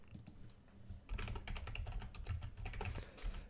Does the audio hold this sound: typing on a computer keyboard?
yes